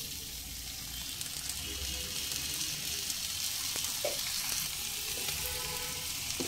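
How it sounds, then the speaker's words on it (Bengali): Boiled, deboned lote fish sautéed with spices in a pan gives a steady, close, loud sizzle with a hissing crackle throughout, broken by a few soft stirring scrapes and no voices. "এবার 5 থেকে 6 মিনিট সমস্ত মশলার সঙ্গে মাছগুলোকে একটু কষিয়ে নিতে হবে।"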